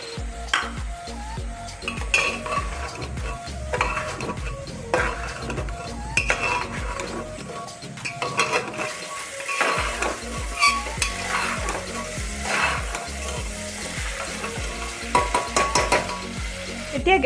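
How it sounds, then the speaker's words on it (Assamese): Soybean chunks, potatoes and tomatoes frying together in a pan for khichdi, with continuous sizzling and repeated scraping, clinking stirs of a spoon against the metal pan, close and alone. "আৰু লগতে মই ইয়াতে সয়াবিনখিনিও দি দিছো, একেলগে মই ভাজি লম।"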